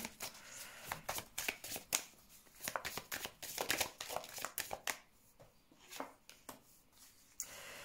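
Tarot cards are shuffled close up in a quiet room for a reading, with rapid papery riffling and flicking bursts that come in uneven clusters and then thin out toward the end.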